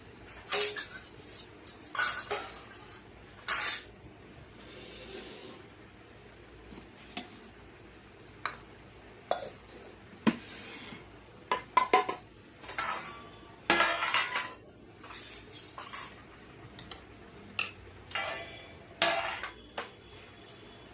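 Dishes, cutlery and glass clinking and clattering in a home kitchen while rice is being served for a meal, with scattered bursts of sharp clinks and scrapes over a quiet background and no speech.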